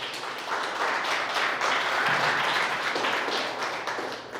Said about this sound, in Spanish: Dale un aplauso a Dios por esa promesa.